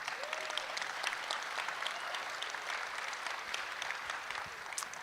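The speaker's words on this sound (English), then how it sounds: "Please clap some more for me." Audience applause at the Our Ocean Conference closing ceremony, a moderate, even wash of clapping from a seated crowd that sounds somewhat distant and continues steadily for several seconds.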